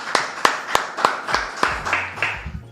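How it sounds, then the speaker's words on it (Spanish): A few people clapping in a television talk-show studio as a guest is welcomed, about nine distinct claps in a loose, slightly uneven rhythm, fairly close and moderately loud, with a low hum toward the end. "a quien vamos a gratificar con un fuerte aplauso."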